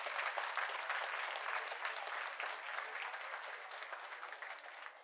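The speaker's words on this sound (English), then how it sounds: "And clap for that." An audience at a forum event applauds, a steady wash of many hands clapping that slowly fades toward the end, heard fairly distant and without talk.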